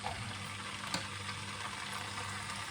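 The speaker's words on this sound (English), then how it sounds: "A little bit of a sizzle." Steady, dense sizzling of pork fillet frying in a hot pan, a constant crackle with no talking.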